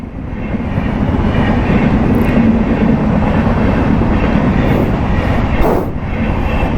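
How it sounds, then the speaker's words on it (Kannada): A train rumbles past loudly and close at night in Bangalore, a heavy continuous roar with rhythmic rattling of the cars, swelling then easing slightly, with no talking. "ಬೆಂಗಳೂರಲ್ಲಿ ಟ್ರೈನ್ ಈ ಥರ ನೋಡೋದೇ ಅಪರೂಪ"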